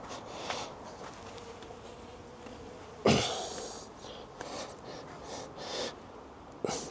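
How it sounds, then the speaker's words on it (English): Bees hum in a soft, continuous drone, with occasional louder buzzes passing close and a few faint knocks and breaths. "I don't like it when I come close to squashing these beautiful bees"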